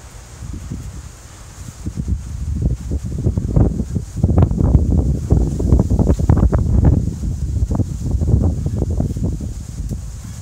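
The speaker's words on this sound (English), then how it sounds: "The wind is coming right now." Strong gusty wind buffets the microphone with a deep, rushing roar that swells louder in the middle, then eases slightly, with no voices.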